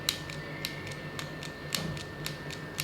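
An AMI mini hand sewing machine stapler is pressed down fully and lifted again and again, giving a run of sharp mechanical clicks at an even, ticking rhythm against a steady low hum, close and fairly quiet.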